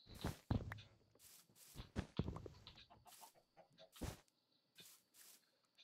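Chickens in Minecraft cluck in short, repeated bursts, some close and loud, others softer, with faint footstep-like taps between calls and no talking.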